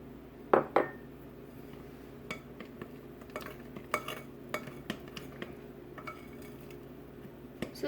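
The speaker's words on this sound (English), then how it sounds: "So just gently mix until you don't see any more white powder." Banana bread batter with flour, baking soda and salt is stirred by hand, a spoon or whisk clinking and scraping against the bowl in irregular taps, some sharper knocks early on, close and fairly quiet.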